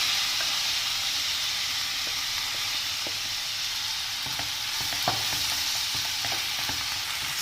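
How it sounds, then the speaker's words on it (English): Fresh fenugreek (methi) leaves gently stirred into cooked potatoes in a hot pan: a steady close sizzle and hiss with soft scattered scraping clicks from the spoon, no voices. "So after adding the leaves, I am gently mixing it."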